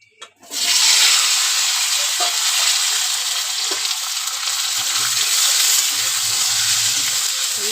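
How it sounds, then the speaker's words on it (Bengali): Sliced potatoes and drumstick pieces drop into hot oil tempered with nigella seeds in a kadai, setting off a sudden, loud, continuous sizzle that holds steady close up, with faint clinks underneath. "কেটে রেখেছি আলু আর সজনে ডাঁটা দিয়ে দেবো।"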